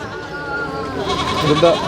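Goats bleating amid the bustle of a crowded goat market at Chattiparamba, several animals calling over a steady murmur of the crowd, growing louder toward the end.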